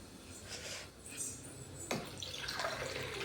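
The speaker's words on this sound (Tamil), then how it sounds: "இன்னொரு கையில் பால் பாக்கெட்டில் இருக்க பால் ஊற்றிக்கிட்டு இருக்கேன்" Milk pours from a plastic milk packet in a kitchen, a soft continuous splashing trickle that swells slightly partway through, close and alone with no talk.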